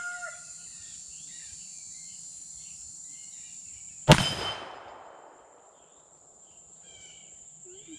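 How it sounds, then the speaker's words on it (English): A single loud black-powder shot from a Colt Walker revolver firing a 220-grain bullet across a chronograph, a sharp crack with a lingering tail, set against steady crickets and a faint distant rooster outdoors. "we're going to try the Colt Walker with these 220 grain bullets across the chronograph"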